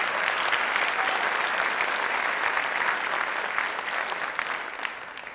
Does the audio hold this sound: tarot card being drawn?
no